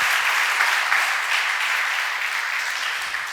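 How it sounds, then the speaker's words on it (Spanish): A church congregation breaks into sustained, dense applause during a Sunday service, a close wall of clapping that slowly tapers over a few seconds. "Todavía dales aplauso al Señor."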